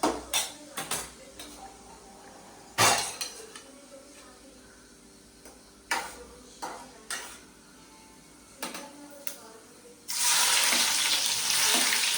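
Tomato sizzles in a pan with tempering, a low frying hiss under sharp clinks of a utensil against cookware, ending in a louder burst of sizzle; voices speak nearby.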